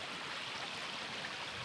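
Small creek running beside a stop on the Natchez Trace, a soft, continuous trickling wash with no voices.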